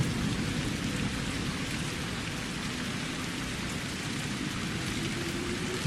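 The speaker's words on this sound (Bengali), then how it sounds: "কথাটা বলতে না বলতেই দু এক ফোঁটা বৃষ্টি শুরু হয়ে গেল।" Steady rain hisses evenly on surfaces, a continuous wash of patter with a low rumble underneath and no voices.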